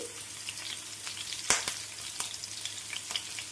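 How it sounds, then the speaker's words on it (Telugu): Curry leaves dropped into hot oil with onion and green chilli for a prawn dish, a close crackling sizzle with sharp pops and spatters, one loud burst early on, no talk. "ఉల్లిపాయ పచ్చిమిర్చి కొంచెం వేగిపోయింది కదా ఈ టైంలో కరివేపాకు వేసుకోండి"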